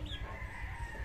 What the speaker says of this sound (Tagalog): Ang tawag nga po pala dito ay Dongtaw na manok.